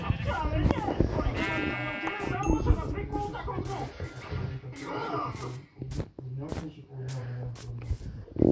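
Sheep bleat in the Minecraft video game, a wavering baa near the start amid game clicks and steps, while a person talks over it throughout.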